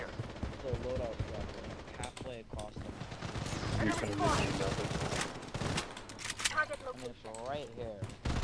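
Rapid gunfire in the video game Bloodstrike, with bursts of automatic shots and mechanical clicks mixed with game effects, heard under ongoing talk.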